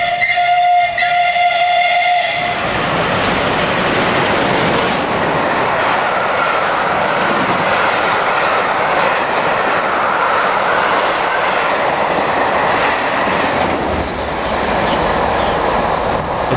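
Steam locomotive Clan Line, a Bulleid Merchant Navy class engine, runs through a station on the Swanage Railway at speed, a loud whistle sounding for the first couple of seconds before the roaring rush of the passing train fills the rest.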